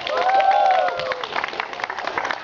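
An audience at a martial arts belt grading ceremony claps steadily, with a sustained voice tone at first and the crowd's patter carrying on after it fades.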